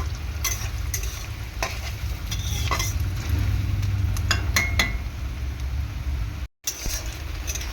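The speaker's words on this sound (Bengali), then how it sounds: "মোটামুটি পেঁয়াজটা ভালো করে ভেজে নিয়েছি" Onions frying in hot oil with spices for ghugni, a dense continuous sizzle with occasional utensil clinks and scraping as they are stirred, close and fairly loud, no talking.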